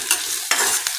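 Curry leaves and onion sizzling in hot oil, a loud close hiss with three quick stirring scrapes in a short burst and no talking.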